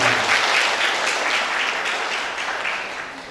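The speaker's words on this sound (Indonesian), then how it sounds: "Beri aplaus untuk kita semua." Audience applause at an annual cooperative members' meeting, a steady wash of many hands clapping together for a few seconds, loud and sustained, then easing slightly toward the end.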